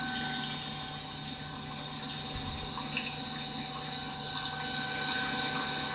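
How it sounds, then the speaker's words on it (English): Water is pumped through a Stirling-engine-powered distillation system, giving a steady mechanical hum with faint liquid flow and occasional soft clicks throughout. "The water was then pumped through the system."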